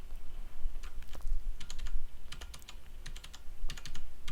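A computer keyboard is hammered in rapid bursts of sharp key strikes, uneven in rhythm with short pauses between flurries, close and fairly loud, with no voice over it.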